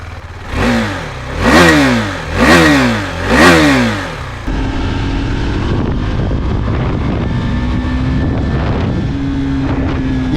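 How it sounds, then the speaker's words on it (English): A high-revving single-cylinder motorcycle engine with a raspy note, first swelling through three or four rising-and-falling rev bursts, then settling into a steady, loud buzzing drone, with wind noise throughout. "You can't expect too much from a high-revving single cylinder in this category. It's got a raspy note"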